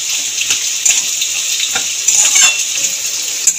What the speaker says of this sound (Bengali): একটু নাড়িয়ে নেব